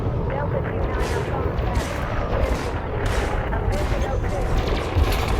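Plasma weapons fire during a space battle in Elite Dangerous, a dense barrage of rapid repeated blasts over a constant roar.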